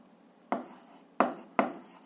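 A pen scratches out an algebra equation by hand on paper, three short quiet strokes standing out above a low room hiss.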